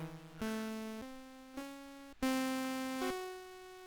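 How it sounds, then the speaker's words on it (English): Kepler synth preset from FL Studio played via MIDI with no modifications, a clean bright buzzy tone stepping through several sustained notes of rising pitch, each change marked by a soft attack, faint and alone. "the sound of Kepler from FL Studio"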